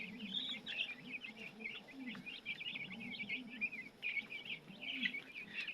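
Dense overlapping peeps from a crowd of week-old broiler chicks fill a poultry house, steady and close, with low murmuring sounds underneath.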